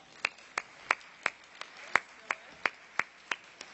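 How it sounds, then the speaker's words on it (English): Audience applause at a product testimonial event, heard as a thin, evenly spaced run of about a dozen sharp hand claps, fairly quiet and without any voices over them. "Let's give them a round of applause."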